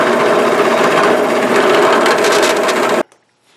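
Bit drilling steadily through a wooden handplane body, a continuous loud grinding rasp of wood that stops abruptly near the end, leaving quiet.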